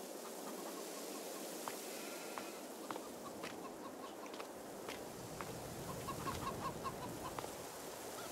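Chickens clucking in the video game Farming Simulator 22, soft scattered clucks over a steady ambient farm background, fairly quiet with no talking.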